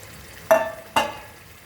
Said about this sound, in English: Now we'll add our curd mixture and we'll cook for another